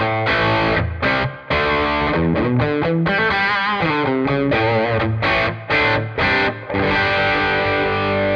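A heavily distorted electric guitar through a Tonex amp tone model at its default setting plays a riff of sustained chords and bends, loud and close, with short gaps between phrases.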